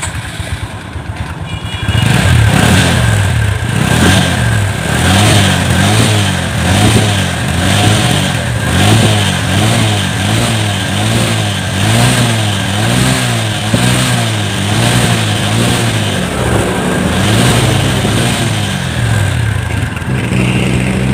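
A Honda Wave 125 motorcycle smoking from worn piston rings starts and runs close to the exhaust pipe, its engine rising and falling in repeated revs over about twenty seconds, loud and continuous.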